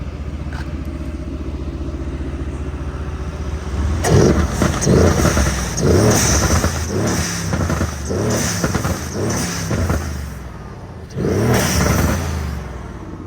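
A Mercedes GLC63 S engine with aftermarket intakes and blow-off valve starts and revs repeatedly in loud bursts, rising and falling with rough exhaust clatter, ending on one last strong rev.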